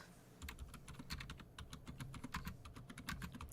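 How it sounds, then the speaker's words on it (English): Typing on a quieter computer keyboard, a steady run of soft, close key clicks with no talk. "I got a quieter keyboard."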